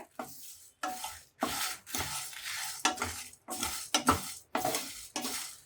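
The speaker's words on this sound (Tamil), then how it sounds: "நல்ல ட்ரை ரோஸ்ட் ஆகட்டும் அதை வறுபடும் போதே அந்த வாசனை செம சூப்பராக இருக்கும்" Whole cinnamon bark and cloves dry roasting in a pan for sambar rice spice powder, heard as a run of separate scraping, rattling stir strokes with short pauses between them, close and fairly loud, with no talk.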